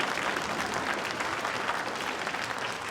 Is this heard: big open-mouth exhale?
no